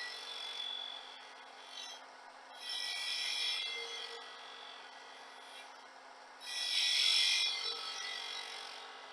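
A 1/4-inch round skew with a long point cuts straight into a drilled hole in spinning wood on a lathe, giving a soft, steady scraping hiss that swells into two louder bursts of cutting, close and unaccompanied by speech.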